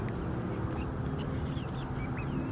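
Chickens clucking outdoors near their coop on their first day out, scattered soft clucks and chirps over a steady background hum, with no talking.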